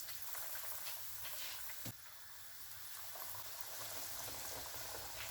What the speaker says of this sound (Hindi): मैं इनको फ्राई करती हूँ।